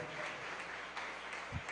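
Church congregation clapping, a soft, distant patter of many hands that runs steadily through the whole stretch.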